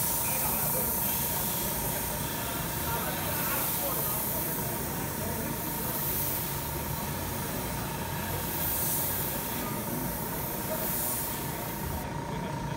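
A Sparmax DH-125 airbrush sprays in a steady, continuous hiss of air and paint, loud and unbroken across the whole stretch, with a thin constant tone running beneath it.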